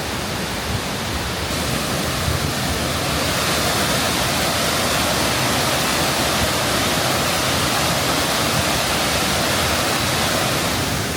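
Mae Sa Waterfall in Chiang Mai, Thailand, pours steadily in a dense, broadband roar. The rushing water stays close and constant for the whole stretch, with no voices over it.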